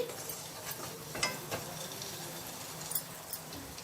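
Fried eggs with chilli powder are stirred in a pan, a soft sizzle under light scraping and occasional clinks, faint and close, with no voices.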